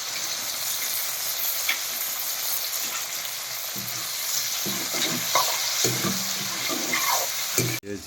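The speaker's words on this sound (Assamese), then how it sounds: "বিলাহী দিলোঁ, এতিয়া বিলাহীটো ভাজি লওঁ আগতে" Tomatoes fry in hot oil in a pan, a steady close sizzle broken by stirring scrapes and light clatter near the end, with no talking.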